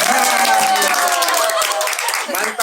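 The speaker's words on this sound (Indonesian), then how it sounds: "Tepuk tangan Pak Hilman." A small group applauds during an informal Indonesian talk-show episode, with steady close clapping that runs throughout, mixed with voices and cheering.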